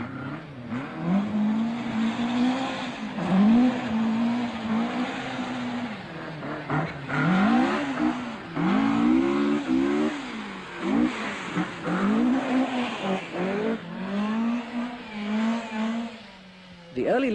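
A 1978 rally car races fast over slippery tarmac, its engine revving hard and rising and falling through repeated gear changes, with tire squeal, loud and continuous throughout.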